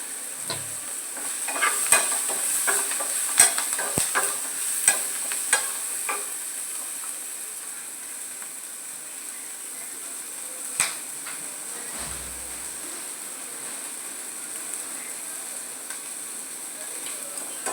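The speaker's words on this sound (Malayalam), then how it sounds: "ഉപ്പിട്ടിട്ട് വഴറ്റിയെടുക്കാം." Something is being sautéed with salt in a pan, giving a long, even sizzle with a run of sharp spoon taps and scrapes early on, then steady frying.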